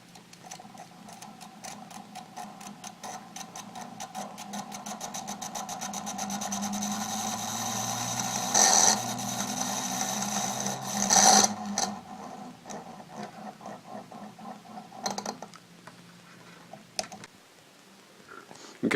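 A small homopolar motor driven by a large battery rather than AA cells spins steadily, giving a close, continuous whirring buzz with fast rhythmic ticking. Two brief louder crackles stand out midway, and it ends in a few clicks.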